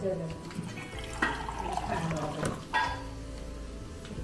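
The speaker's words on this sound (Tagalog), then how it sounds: "Tapos lalagyan natin ng tubig." Water is poured into a cooking pot in a kitchen, splashing and gurgling in uneven bursts with clattering at a close distance, while a person talks in the background.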